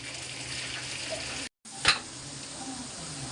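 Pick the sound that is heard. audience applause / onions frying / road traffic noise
onions frying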